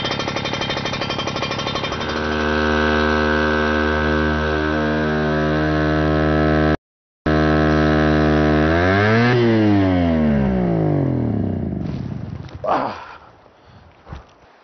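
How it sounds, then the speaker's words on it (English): A fireman training engine runs at a steady loud idle while warming up, then surges sharply in pitch as it revs toward full throttle before abruptly dropping off, with a few clanks at the end. "It just revved up super high, about blew my ears out"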